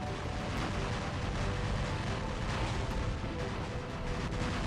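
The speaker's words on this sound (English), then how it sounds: "I'm firing, giving the impression that I've kind of fired all of my Orkans" Orkan rockets launch from a mech in War Robots as a dense, steady barrage. Rapid whooshing blasts and rumbling detonations run together continuously at loud volume.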